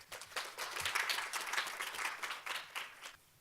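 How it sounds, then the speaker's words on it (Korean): Applause from a modest audience at the opening of a science and technology policy forum in a conference hall, rippling claps rising quickly, holding steady for about three seconds, then fading out. "박수로 맞아주시면 감사하겠습니다"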